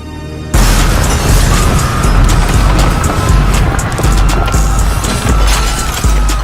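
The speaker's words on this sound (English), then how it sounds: "we're going to attack the medieval castle with 100 fireworks that will go off all at" A hundred fireworks go off at once against a brick medieval castle, a dense, loud, continuous barrage of booms, pops and crackles that starts abruptly and keeps roaring for several seconds with no talk.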